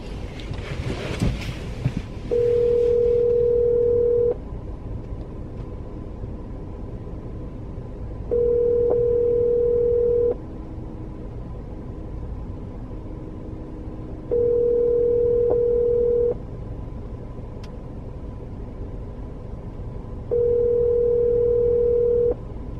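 An unanswered telephone call rings back in the earpiece four times, each a steady two-second tone followed by a long gap, over faint background hiss with no talk.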